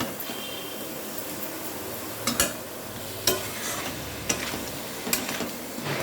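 Crab sautéing in a pan keeps up a constant loud sizzle, broken every second or so by sharp scraping clicks of the stirring utensil against the metal.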